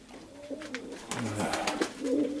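Pigeons in Perm coo close by in several soft, throaty rolling calls, with a few sharp flutter-like bursts between them.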